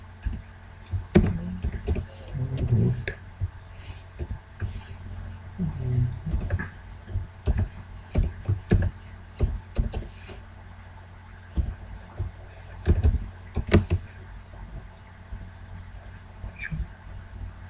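Keys clack on a computer keyboard as a URL is typed, heard as bursts of close, sharp clicks with pauses between them over a faint steady hum.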